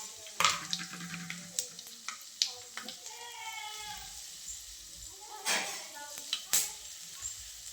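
Soft sizzling of cumin and ground spice paste tempering in oil in a pan, with sharp clinks and scrapes of utensils, and a voice murmuring partway through.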